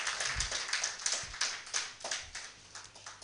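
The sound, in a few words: audience applause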